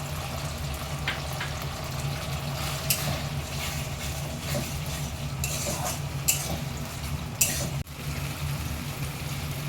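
Chopped tomatoes go into a frying pan for Chicken Kolhapuri, giving a steady sizzle with scattered sharp clicks and scraping stirs, and a brief clatter near the end.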